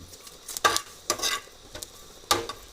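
Dried chilies dry-roasted and stirred in a pan for a Lao-style mushroom dip, heard as several short, close scraping stir strokes with a light crackle between quieter gaps.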